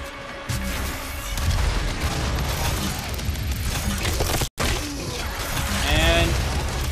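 In the classic shooter Doom, rockets launch and explode in a dense, crunchy clatter of blasts and debris, with a brief cut of silence midway before the booms carry on.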